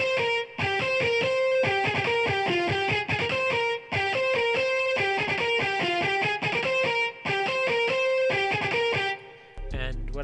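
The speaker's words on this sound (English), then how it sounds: "And then what I did was I also added in this guitar," A distorted, effects-heavy guitar part from a futuristic glo beat repeats a short plucked two-bar pattern, bright and loud, ending in a low hit.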